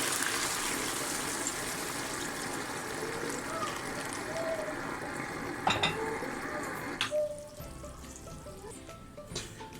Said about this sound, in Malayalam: അപ്പോൾ ഈ ചോറിന് ആവശ്യമായിട്ടുള്ള വെള്ളം ഞാൻ ഒഴിച്ചു കൊടുത്തിട്ടുണ്ട്